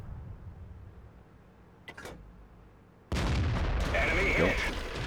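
A World of Tanks artillery piece fires a shell in-game: after a quiet low rumble and a brief sharp crack, a loud sudden boom erupts and rolls on as a sustained heavy blast with mechanical whine, close and dominant.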